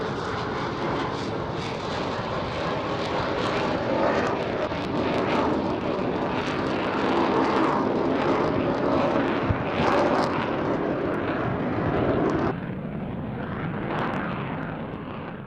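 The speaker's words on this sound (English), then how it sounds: "One F-15QA displayed in a clean configuration, while a second one flew laden with 12 dummy AIM-120 AMRAAM advanced medium-range air-to-air missiles." Two Qatari F-15QA Eagle fighter jets in a flying display, one clean and one carrying 12 dummy AIM-120 AMRAAM missiles, thundering loud and continuous at an air show, with a roaring jet wash that swells and shifts before easing near the end.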